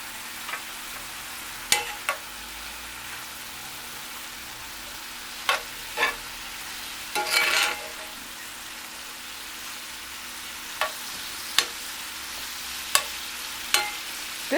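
Vegetable stir fry frying in a pan alongside salmon, with a steady broadband sizzle throughout and several sharp clacks and scrapes of utensils scattered across, one short burst of louder crackle midway, no talking.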